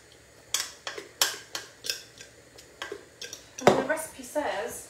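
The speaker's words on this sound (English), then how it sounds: "Into that and just stir it all in." Mixed herbs being stirred into a cauliflower mac and cheese, giving a string of quick spoon scrapes and clinks against the dish, close and fairly loud, with a heavier scraping burst toward the end.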